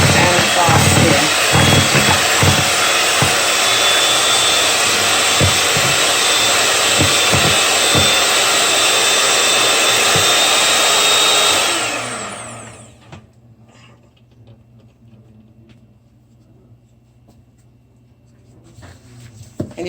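An electric mixer whips cake batter for a from-scratch Black Forest cake, a loud continuous whirring drone with bowl clatter that winds down and stops, leaving near silence.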